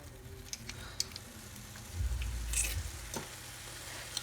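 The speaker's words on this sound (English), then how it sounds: "You hear the little simmering?" Garlic simmering quietly in a pot while a turkey stuffing is being made, giving a faint, steady sizzle and bubbling with a few soft ticks and small pops.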